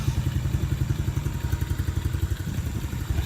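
A 125 ATV engine runs with a steady, rapid thumping beat and mechanical clatter, loud and close throughout, with no talking.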